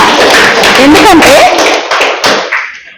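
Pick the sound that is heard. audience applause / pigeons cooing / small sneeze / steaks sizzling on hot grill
audience applause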